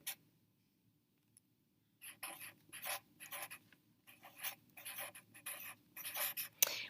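Numbers are written by hand, with short bursts of pen or pencil scratching on paper, close and faint, after a quiet opening.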